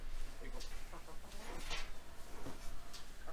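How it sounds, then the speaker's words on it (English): Chickens cluck in a farmyard pen near a damaged fence, short clucks scattered over steady outdoor noise with faint voices in the background. "Chicken."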